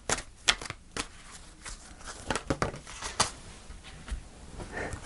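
Tarot cards are shuffled by hand before a final card is drawn, a close run of soft riffling flutters and slaps with short pauses and no talk.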